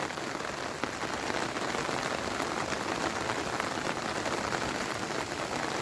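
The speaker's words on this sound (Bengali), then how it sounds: "আবার মুসলধারে বৃষ্টিতে রাস্তাঘাট সব ভিজে গেল" Heavy monsoon downpour drums steadily on surfaces in a village, a loud unbroken hiss of rain with no voices.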